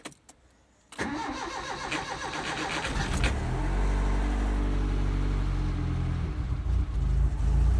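A campervan engine, unstarted for a long time, cranks and catches after a second of quiet, then settles into a steady, loud low rumble close by, revving slightly.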